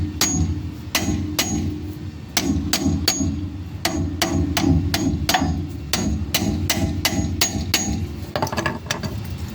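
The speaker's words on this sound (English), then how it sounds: "So I'm going to try and pound on it a little bit, see if I can get it to break loose" A hammer pounds on a seized, rusted front-end part of a car, about two dozen sharp metallic strikes in uneven bursts and pauses, close and loud over a low background rumble.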